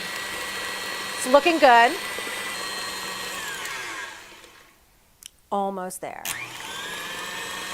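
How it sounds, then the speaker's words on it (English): A stand mixer beats Italian meringue buttercream with a steady, loud whirring drone that fades out, then restarts. Brief speech comes through over the motor. "Now, a stand mixer for me is absolutely necessary for Italian meringue buttercream."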